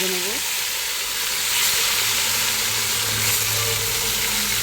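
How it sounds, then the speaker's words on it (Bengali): Fish fry in hot oil, a steady bright sizzle filling the clip at moderate level, with a faint low hum beneath it and a short sound at the very start. "তেল গরম হয়ে গেল। এবার এক এক করে আমি মাছগুলো ভেজে নেব।"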